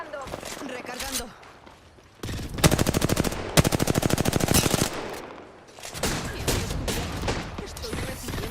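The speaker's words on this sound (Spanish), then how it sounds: "Estoy recibiendo disparos." Loud, rapid machine-gun fire rings out in a video game, with sustained automatic bursts between quieter stretches and a voice talking over the action.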